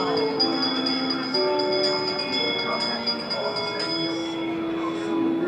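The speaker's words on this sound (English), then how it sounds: "give us a hint by ringing a bell" Bells ring with several overlapping, sustained metallic tones that hang and fade into one another, fairly loud and close.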